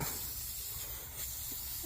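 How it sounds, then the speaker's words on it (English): WD-40 sprays in a steady, close hiss onto a bored-out engine block, one continuous burst of aerosol with no talk. "I just gotta spray some more WD-40."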